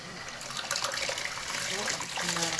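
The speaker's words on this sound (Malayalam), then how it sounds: "അത് നന്നായി വെള്ളം തിളയ്ക്കുകയും ചെയ്തു ഇനി നമുക്ക് അതിലേക്ക് നമ്മുടെ അരി ഇട്ട് കൊടുക്കാം" Rice poured into a pot of boiling water for chicken biryani gives a soft, continuous splashing and bubbling, with faint talk underneath.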